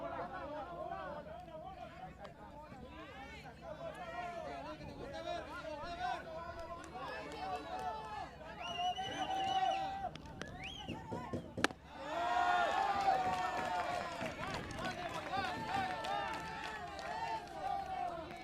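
Crowd noise at a Senior League Baseball World Series game between Hawai'i and Texas: a steady babble of chatter and cheering that swells into louder sustained roaring partway through, with a commentator talking over it.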